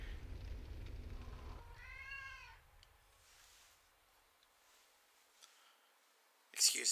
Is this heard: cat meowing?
yes